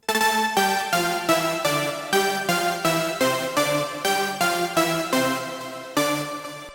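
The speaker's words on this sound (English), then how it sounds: "together, those two leads sound like this." A bright synthesizer lead plays a steady rhythmic melody of repeated, evenly spaced notes, two layered tones blending into one rich sound.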